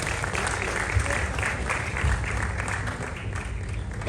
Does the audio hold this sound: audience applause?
yes